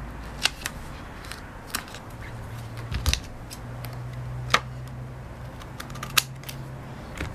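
Adhesive tape being cut while assembling a homemade first-aid box: a few quiet, sharp snips and clicks spaced out over a soft background, with no talking.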